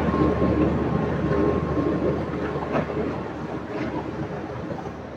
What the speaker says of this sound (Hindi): CNR टाइप प्लांट है जिसका आपको ये शोर सुनाई दे रहा होगा वीडियो में।